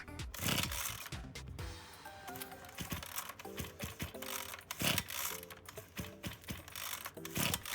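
Repeated rattling pulls on the recoil starter of a Maruyama MB228V brush cutter that won't start, the ratcheting cord sounding in uneven bursts with short pauses between pulls, close by and no running engine.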